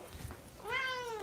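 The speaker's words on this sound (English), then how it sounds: "I told you that cat meows nonstop" Squirrel, a female house cat, gives a single clear rising-then-falling meow near the end, close and fairly loud, after a moment of quiet room noise.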